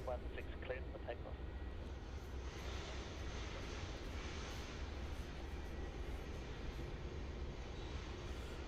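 A fixed-wing airplane takes off from runway 16 at Melbourne Airport, a steady, loud engine roar that holds evenly throughout, with some talk faintly underneath.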